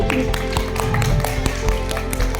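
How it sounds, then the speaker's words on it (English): At a school annual prize ceremony, an audience keeps up a round of applause, with crisp individual claps ticking along over a droning, tonal room background at steady medium loudness. "Keep clapping."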